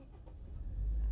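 A car engine with no exhaust pipe fitted, only a short pipe after the engine, rumbles and builds into a loud, deep idle as it starts up close by.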